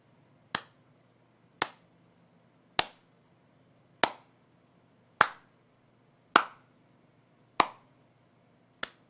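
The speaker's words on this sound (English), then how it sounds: "The slow clap." One person's deliberate slow clap: eight sharp, separate hand claps spaced about a second apart, close and isolated against a quiet room.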